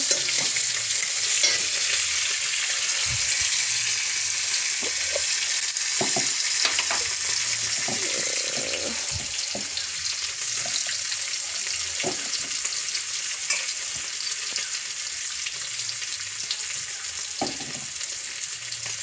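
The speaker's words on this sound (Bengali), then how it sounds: "এটাকে একদম ভেজে নেব খুব সুন্দরভাবে মশলাটা" Spice paste frying in a pan for a Bengali mixed-vegetable ghonto, giving a steady, close hiss of sizzling oil with occasional scrapes and knocks from stirring, no voices.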